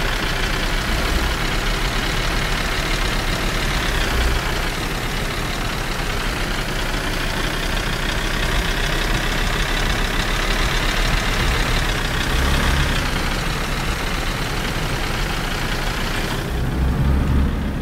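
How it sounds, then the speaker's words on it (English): Noisy truck engine running steadily in the DayZ game world of Chernarus, a continuous loud rumble with a slight knock that holds without break from start to end. "That truck is so noisy, isn't it?"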